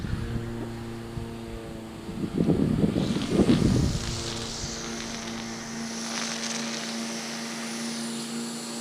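An i-Drone i3S quadcopter flies at almost full throttle, its rotors giving a steady droning whine with harmonic tones, a loud gusty rush of wind noise for a couple of seconds, then a smoother hum.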